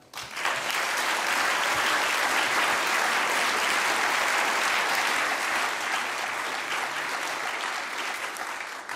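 A large audience at the Felix Burda Award 2017 ceremony breaks into sustained, loud applause that starts abruptly, holds steady for several seconds and eases slightly near the end.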